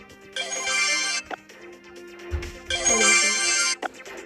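A phone ringtone plays in two bright, melodic bursts with a pause between them, loud and close, with faint background sounds.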